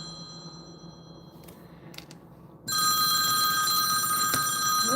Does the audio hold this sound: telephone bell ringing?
yes